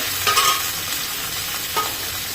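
Sliced onions, tomatoes and cashews sautéing in a pan, a dense sizzle with two scraping stirs a little over a second apart, close and fairly loud, no voices.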